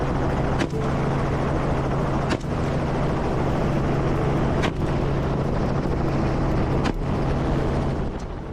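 A helicopter drones steadily overhead during a hunting flight, its low rotor hum continuous and fairly loud, broken every couple of seconds by sharp percussive cracks.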